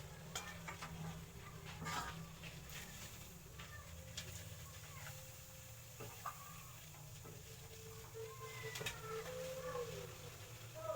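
Food grills in a pan on the stove, a steady low sizzle running throughout with scattered clinks and scrapes of stirring.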